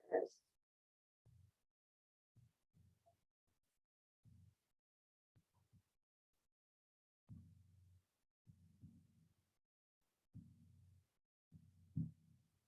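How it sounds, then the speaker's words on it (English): A heartbeat plays as soft, low thumps in irregular clusters, faint and muffled, separated by stretches of silence, with no voices. "feeling the heartbeat."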